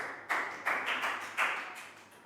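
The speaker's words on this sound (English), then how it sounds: "Big round of applause for Nadia." A few bursts of hand clapping from a small group in a Year 3 maths class, short and uneven, with no voices.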